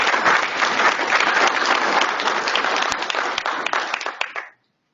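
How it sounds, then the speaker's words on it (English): Audience at a Watermaster organization meeting applauding, a dense steady round of clapping lasting several seconds before stopping abruptly. "I want to give applause to our next Watermaster member, Leo Keeble."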